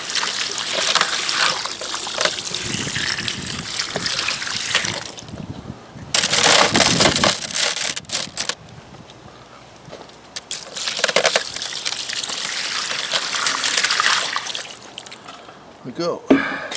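Tumbled agate stones being rinsed under warm running water, a steady splashing trickle with brief pauses and clinking, mixed with talk.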